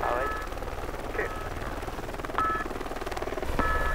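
A helicopter hums steadily at a quarry sector near Saint-Amand, its engine and rotor drone constant and fairly close, with radio-style speech and beeps over it.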